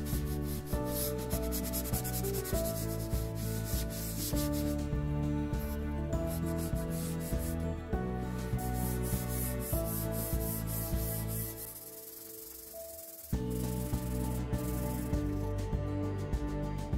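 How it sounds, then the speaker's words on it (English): Painted desk surface being roughed up by hand with 120 grit sandpaper, close, steady rhythmic rubbing strokes running continuously, with a brief quieter pause before the scrubbing resumes. "we're just going to rough up the surface a little bit with a 120 grit sandpaper"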